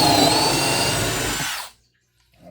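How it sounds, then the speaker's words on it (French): A power drill bores into a wooden flower, a loud steady whine that runs for about a second and a half before cutting off abruptly into near silence, with a faint sound returning at the end. "On perce."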